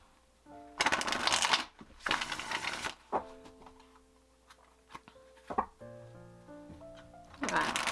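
A tarot deck shuffled in several quick riffling bursts, close and crisp, separated by quieter gaps with faint tonal background sounds.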